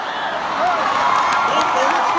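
A large crowd at an Obama political rally for Northam sends up a loud, sustained roar of booing and shouting that swells midway and holds steady, with no individual voice standing out.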